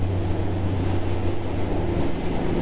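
Dale Classic 37 motor boat powering through choppy sea, a steady low engine drone and rushing water with wind buffeting the microphone, continuous and close throughout.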